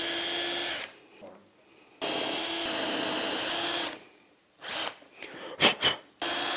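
A power drill bores holes through a UJK Parf guide into a board, several loud, close bursts of whining drilling separated by pauses, followed by short clattering handling noises.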